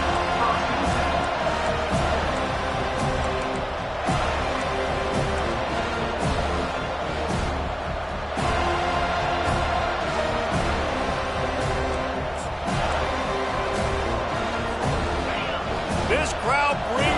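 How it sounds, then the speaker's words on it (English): Football stadium crowd at a Virginia Tech at Florida State game, a loud sustained roar with thuds and surges, a commentator talking over it throughout. "This crowd bringing the energy and noise early."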